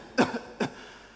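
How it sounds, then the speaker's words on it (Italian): Two short, sharp coughs sound close and fairly loud, a brief pause between them before quiet returns. "continua a tossire"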